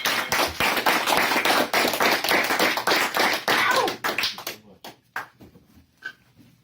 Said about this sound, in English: Again, one last round of applause.